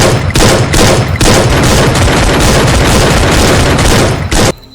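Loud, rapid gunshots from the Free Fire video game hammer out in a continuous volley of close, punchy cracks and booms that stop abruptly near the end.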